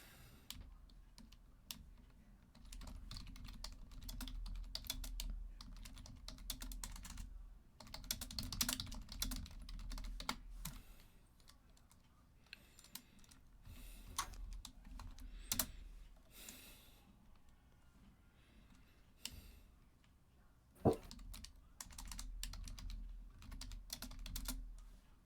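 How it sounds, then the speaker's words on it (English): Fast, uneven typing on a computer keyboard during an online Dungeons & Dragons session, a near, soft clatter of key presses in quick bursts with short pauses, unaccompanied by talk. "I'm typing, Emmy."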